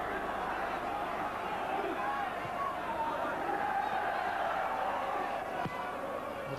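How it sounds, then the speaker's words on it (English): Aston Villa's home football crowd roars steadily at a UEFA Cup match against Baník Ostrava after a third goal, a dense, sustained wash of distant cheering and chanting with no break. "So the Villa crowd really roaring now."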